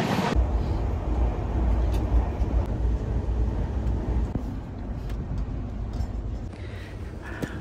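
The Paharia Express, an LHB passenger train, rolls through Jirat station with a continuous loud low rumble and rushing noise, close by and steady throughout, with no voices over it.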